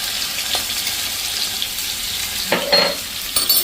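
Finely chopped garlic and two medium onions fry in a hot pan for an onion curry, a soft continuous sizzle with a couple of louder crackling bursts toward the end.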